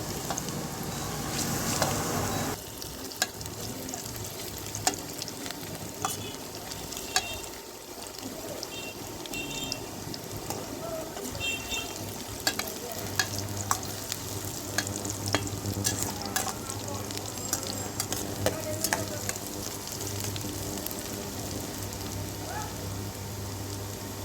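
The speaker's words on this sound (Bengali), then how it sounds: "এখন আমরা তেলে সেই 3টি পেঁয়াজ ছাড়ছি" Chopped medium onions frying in hot oil for a lady finger and red lentil dish, a loud sizzle that jumps up after about three seconds and then crackles on steadily, with occasional stirring clinks close by.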